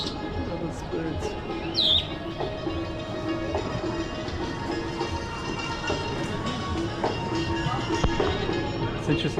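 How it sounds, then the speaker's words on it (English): Birds chirp in Kashgar, Xinjiang, with sharp scattered tweets over a busy outdoor background hum of crowd and traffic noise. "All those birds."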